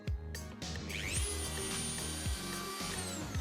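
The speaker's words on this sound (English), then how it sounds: "I like to use a Dremel. I'm using the sanding head." A Dremel rotary tool with a worn sanding head whines steadily close by, its pitch dipping and rising as it grinds against a helmet surface.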